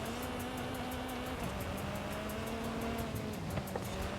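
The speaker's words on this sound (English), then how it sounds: "Kind of just buzzing around the corners here." A Hot Wheels racing car from Forza Horizon buzzes through corners with a sustained high engine whine, steady and loud, with tire noise underneath and no voices.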